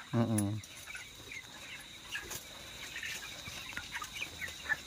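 Broiler chicks on a poultry farm: one loud, clear call opens the clip, then faint scattered chirps and peeps carry on quietly in the background.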